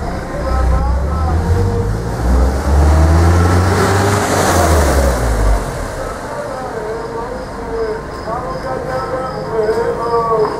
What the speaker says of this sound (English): Yeah, there's a car